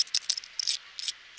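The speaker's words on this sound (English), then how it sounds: "I was jangling keys in my pocket" Keys jangle in a pocket outdoors, giving faint, bright metallic clinks and rustles in short, irregular bursts.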